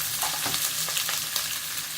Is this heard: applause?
no